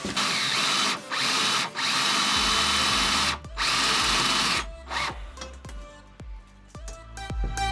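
Power drill backing stripped screws out inside a Sprinter van during a conversion, loud whirring runs broken by short pauses, then choppy stop-start pulses and clicks near the end, close and without talk.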